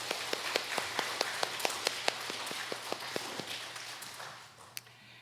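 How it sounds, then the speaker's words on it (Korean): Sharp, evenly spaced claps ring out one after another at a moderate volume during a church service, slowing and fading toward the end. "하나님께 영광의 박수 올려드리겠습니다"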